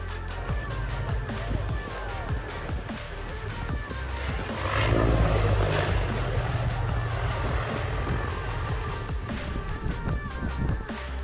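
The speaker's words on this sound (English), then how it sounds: "The landing of this military transport aircraft is definitely not perfect." A military transport aircraft comes in to land, its engine rumble and roar swelling to a peak mid-way before holding steady at a moderate distance amid broadband noise.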